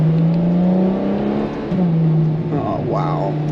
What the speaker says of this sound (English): the noise, naturally aspirated V12.